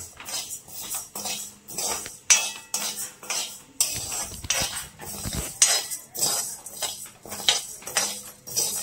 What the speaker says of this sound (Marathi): आता हे तांदूळ आपण भाजून घेऊया आणि त्याची पूड करून घेऊया.